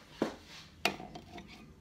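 A metal teaspoon clinks twice as it is taken from the cutlery, two short bright knocks with faint rattling in between, close and quiet.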